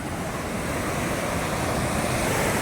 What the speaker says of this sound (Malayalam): കടൽ നല്ല രൗദ്രമായിട്ട് കിടക്കുകയാണ്